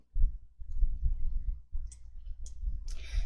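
A few soft mouse clicks on the sort descending button in Excel, short and spaced apart, over a steady low hum with no talking.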